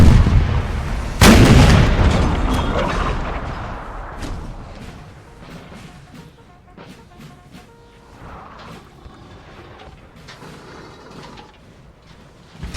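A 6-pounder artillery battery fires in Napoleon Total War's Battle of Friedland, 1807, one heavy booming cannon shot up front, then distant rumbling discharges and scattered musket pops fading across the battlefield.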